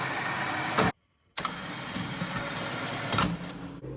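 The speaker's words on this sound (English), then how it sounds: "Turn on your winch. Pull it in and it'll automatically pull it up into the frame." An electric winch on a Glacier snow plow mount whirs steadily as it pulls the plow up into the frame, cutting out briefly near the start and then running on, close and alone.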